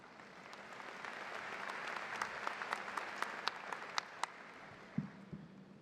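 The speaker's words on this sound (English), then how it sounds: "How about one more round of applause?" An awards event audience gives a round of applause, a soft steady patter of many hands with a few louder, closer claps standing out. It sounds moderately distant and tapers near the end.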